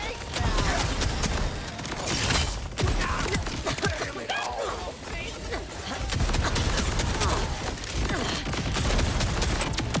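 Grenade explosions in Borderlands 4 combat: a loud, near-continuous barrage of blasts and gunfire bursts with rattling mechanical clatter, and someone occasionally talking underneath.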